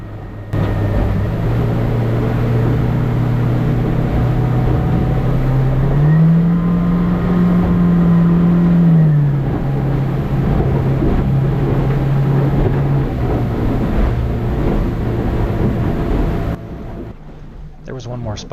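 A boat motors through choppy waves on Puget Sound: a steady, close engine drone that rises briefly in pitch midway and then settles, with wind rush over the microphone, before it cuts off near the end.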